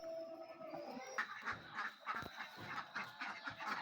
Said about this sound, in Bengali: আর হাঁসগুলো হচ্ছে আবার ঘরে উঠছিল তখনই আমি ভিডিওটা করলাম